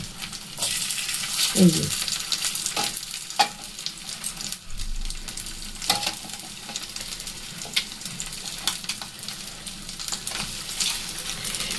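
Egg puri frying in oil, a steady dense sizzle and crackle running throughout with occasional utensil clinks, and a brief spoken phrase near the start.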